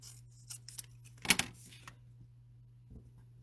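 A few quick scissor snips trim an oversized paper piece for a card craft, close and quiet, with one sharp louder cut in the middle and near silence after.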